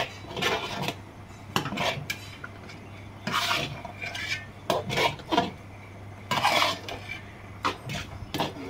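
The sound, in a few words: stirring gobindobhog rice khichuri in a pot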